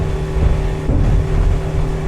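A Rogue Marine Scrambler 20 boat with a Yamaha 90 outboard runs steadily under throttle, a loud close engine drone with a pitch that holds nearly constant, mixed with water and wind rush.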